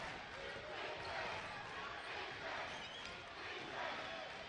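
A crowd at a college basketball game roars steadily in a gym, the cheering swelling in waves, with sneakers and bounces mixed in and an announcer talking over it.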